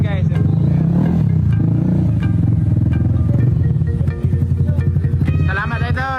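A remapped motorcycle with a cam grind setup revs and crackles up close, its engine blipping in sharp bursts over a steady rattling idle, while voices talk in the background.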